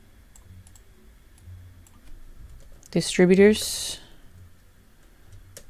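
Soft, rapid clicking of typing on a computer keyboard runs faintly through the background, with a brief spoken word in the middle.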